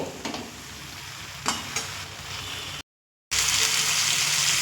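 Prawns and potatoes sauté in a pan with a continuous close sizzle and a few stirring scrapes, cut by a brief silent gap before the frying resumes louder and hissier.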